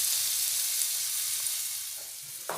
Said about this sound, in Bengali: এবার ওতে দিয়ে দেব থেতো করে নেওয়া রসুন।